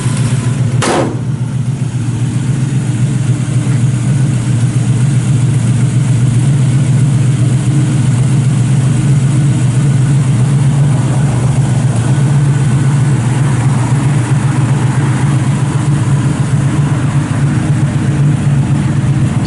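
A 1966 Chevy II Nova with a Hurst ratchet shifter fires up with a short burst and then settles into a loud, steady low rumbling idle close by.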